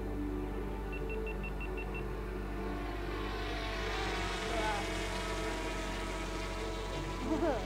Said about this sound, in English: I can see the drone.